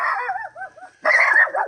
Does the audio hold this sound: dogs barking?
yes